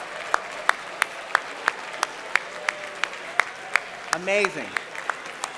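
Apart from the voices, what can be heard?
audience applause for finalists and their teams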